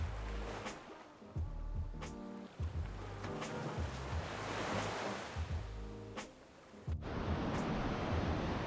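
Surf washes and breaks steadily on a black rocky beach in Tahiti, where the sand is mixed with coral and volcanic sediment beside a lagoon, giving a continuous close roar with rising swells and no voices.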